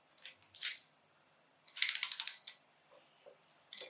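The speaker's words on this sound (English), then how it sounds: "what I'm going to do is ratchet them down just to get them seated" K20 cylinder head bolts being ratcheted down, heard as short bursts of rapid metallic clicking, close and fairly quiet, with brief pauses between the runs of clicks.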